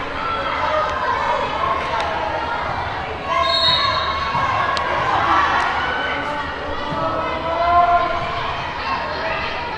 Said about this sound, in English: And now the crowd really getting into it.